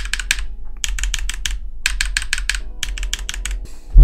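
Typing on an e-Yooso z88 keyboard with lubed red switches gives close, quick clusters of muted key clacks in rhythmic bursts separated by short pauses, ending with a low thump.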